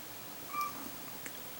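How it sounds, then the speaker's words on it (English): A domestic cat gives one faint, brief meow, heard at a distance against quiet room noise. "That's my cat Kyoko."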